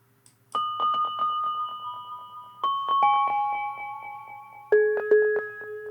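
A little synth bell intro run through an McDSP EC-300 tape delay plugin plays bright, sustained bell tones in short phrases, each struck note trailed by rapid repeating echoes. The tones step to new pitches several times, alone and fairly clear.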